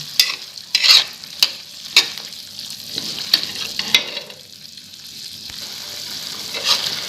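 Tempeh simmering in a pan with a splash of water for a spicy krecek stew, a steady hiss under sharp scraping stirs, several louder clacks early on, then a softer bubbling sizzle.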